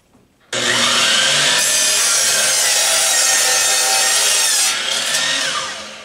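Hand saw cutting through wood just outside a marked line while building a vacuum seeder, one steady continuous rasping stroke sequence, close and loud, with no talking.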